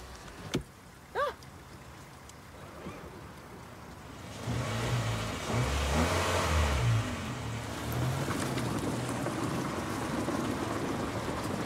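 A car engine rises from about four seconds, swelling into a close, rumbling pull-away that then settles into a steady, fading drone, after a few faint clicks and knocks; no one speaks.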